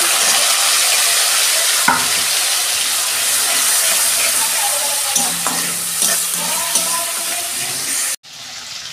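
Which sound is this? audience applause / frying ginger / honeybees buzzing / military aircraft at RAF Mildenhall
frying ginger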